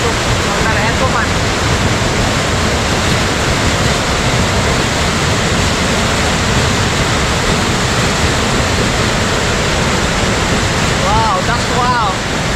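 A waterfall in heavy flash-flood flow at Mohamaya Lake in Mirsharai, Bangladesh, producing a loud, steady, dense roar that fills the whole clip without letup.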